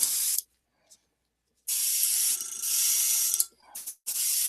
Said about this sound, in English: So again, concentrate the spray on the higher areas of the model.